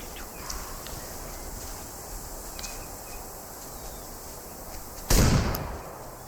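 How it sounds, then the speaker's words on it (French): A single pump-action shotgun blast from the hunting video game Way of the Hunter 2 booms out loud and sudden near the end, after several seconds of quiet outdoor ambience with faint bird calls. "Le fusil à pompe n'a pas l'air d'avoir beaucoup de punch."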